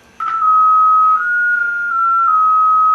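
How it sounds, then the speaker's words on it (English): Digital radio mode transmission from a JT-type station on 2m amateur radio, a loud steady single tone that shifts pitch in small steps, starting abruptly and running continuously with faint background hiss. "Now this file is the actual digital file from the station that was sending it"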